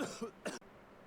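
A character in The Great Ace Attorney Chronicles coughs twice in quick succession, short rough bursts up close, followed by a sudden cutoff to near silence.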